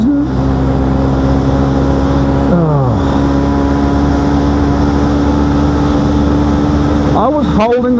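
Motorcycle engine run with the throttle wide open, a loud, steady close-up drone that holds throughout, with a couple of brief pitch dips and rises as the revs shift.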